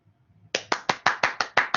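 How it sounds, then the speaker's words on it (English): A single person claps hands during an online seminar Q&A, eight sharp, evenly spaced claps, close and fairly loud, after a brief stretch of near silence. "I'll clap for the crowd."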